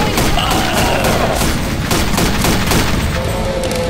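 Dense, loud rapid gunfire blasting at a Tank in the video game Left 4 Dead, overlapping shots in a continuous barrage with voices faintly mixed underneath.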